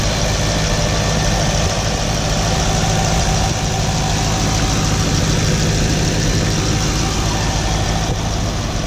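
A stock car engine with an LS6 idles steadily with an even low rumble and faint mechanical ticking, unchanging throughout.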